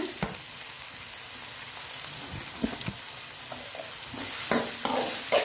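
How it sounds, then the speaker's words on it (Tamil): Tomato and ginger garlic paste being sautéed in a pan for homemade chicken gravy, with a steady soft sizzle broken by scattered scraping stir strokes, nearby and moderately quiet. "தக்காளி ஆட் பண்ணி இஞ்சி பூண்டு பேஸ்ட்டெல்லாம் நல்லா வதங்கணும்"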